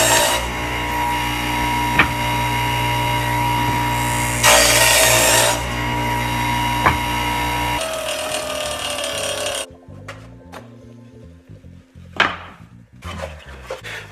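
Wooden pieces for queen mating nucs are sawn with a power tool, a steady loud cutting drone for several seconds, then quieter knocks and handling of the wood pieces.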